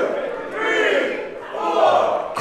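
Wrestling arena crowd chanting in unison during a suplex hold at a PWF championship match, a steady roar of many voices rising and falling in rhythmic waves.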